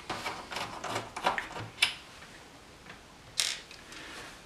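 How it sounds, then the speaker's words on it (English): Small screws are being removed from the tray mechanism of a CD player: quiet, close clicks, ticks and brief metallic creaks come in scattered bursts, with a few sharper snaps. "So the next thing would be to take these three screws out here."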